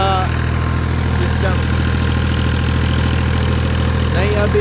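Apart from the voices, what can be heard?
tractor engine revving at an old tube well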